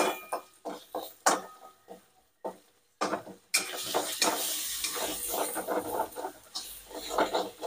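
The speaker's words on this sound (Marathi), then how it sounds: "डाळीचं पीठ सुद्धा परतून घ्यायचं." Gram flour being sautéed with onions and tomatoes in a pan, a spoon scraping and stirring in rough strokes at first, then a steady close sizzle with ongoing stirring scrapes.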